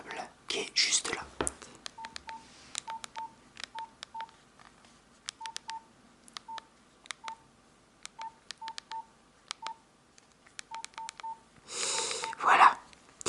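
Keys on an old mobile phone are tapped one by one, each press giving a short keypad beep in an irregular rhythm, close and quiet, with whispering heard at the start and end.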